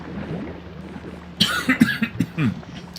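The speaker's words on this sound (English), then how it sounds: "I don't know why I've got the coughs now all of a sudden" Several short coughs and throat-clearing bursts from a person close to the microphone, a quick irregular cluster over a low steady hum.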